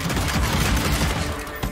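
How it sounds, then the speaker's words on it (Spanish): A loud, dense burst of rapid gunfire from the video game Evil West, shots rattling continuously with no pause. "Mantén E para disparar una en ráfaga y pulsa E para realizar disparos únicos"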